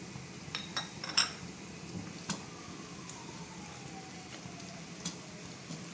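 Whole spices hitting onions that are frying golden brown in a pot for mutton biryani give a faint, steady sizzle, with a few light metallic clinks of a utensil against the pan.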